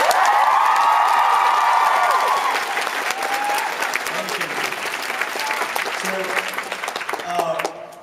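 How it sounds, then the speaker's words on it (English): Audience applause and cheering at a live book event in Glasgow, a loud sustained crowd of clapping with whoops that fades after a few seconds into scattered claps and murmuring. "so I wanted to give her a round of applause."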